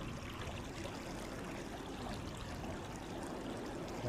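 Water current gushes steadily out of a channel or sluice gate where fishing nets are set, a dense continuous rushing flow, close and even throughout with no voices.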